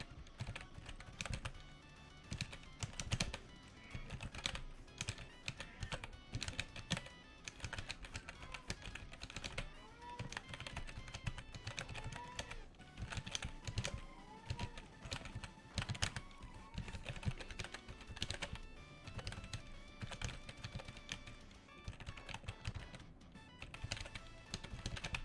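Rapid, continuous computer keyboard typing during a vtuber typing game, close and busy clatter of keystrokes with faint background sounds.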